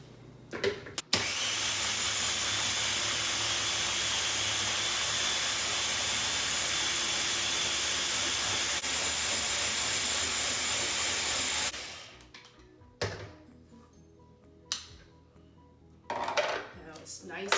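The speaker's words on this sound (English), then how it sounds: "And I'm gonna blend this up" A blender whirs loudly and steadily for about ten seconds, blending pumpkin cheesecake batter with a tablespoon of butter, then cuts off, leaving clinks of handling and brief talk.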